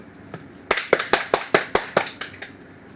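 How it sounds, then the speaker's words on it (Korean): A quick, steady run of about a dozen sharp hand claps at close range, briefly filling a classroom with applause and no talk over it. "박수!"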